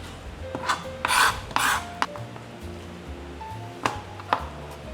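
Knife scraping and cutting the skin off raw chicken for Bacolod chicken inasal, a few rasping strokes with sharper bursts near the start and toward the end, close up and with no talk.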